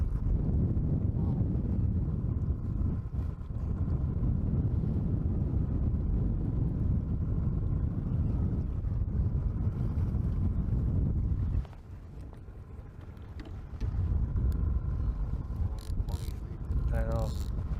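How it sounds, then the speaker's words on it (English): Strong wind buffets a boat out on the water, a loud continuous low roar with mechanical creaks and rattles, easing briefly before rising again. "we just get the wind, the back end of that wind"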